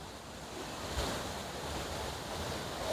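The Urumbikkara waterfall on the Elamkad route to Vagamon rushes in a constant broad roar of falling water, heard up close and unbroken throughout.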